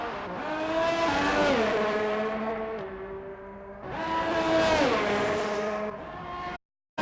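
In a Baku racing video game, an Alfa race car sweeps past with a loud, high engine whine that rises and falls. It comes through twice in succession and then cuts off abruptly.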